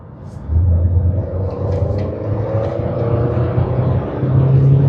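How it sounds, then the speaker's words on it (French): A DeLorean's engine rumbles steadily as the car accelerates, a low droning hum that builds slightly toward the end with faint road noise. "Bon, j'accélère un peu parce qu'elle me fait chier cette voiture."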